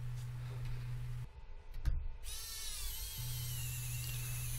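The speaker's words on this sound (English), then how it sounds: "I'm actually using a tiny battery-powered screwdriver that operates off of a single AA battery" A tiny screwdriver running off a single AA battery drives screws, giving a steady high motor whine that pauses briefly in the middle and then resumes.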